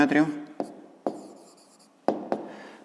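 A pen writes a measurement answer for a fifth-grade maths exercise in a few short scratchy strokes, each with a sharp start that fades quickly. A voice speaks briefly at the very start.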